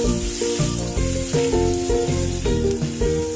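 Broccoli sizzles steadily in a frying pan with onion that has gone translucent, a constant loud frying hiss under what sounds like background music.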